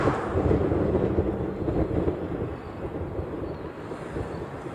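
A Southwest Airlines jet taxiing at Honolulu airport, a broad, steady low rumble of engine noise mixed with wind, gradually easing in loudness, with no voices.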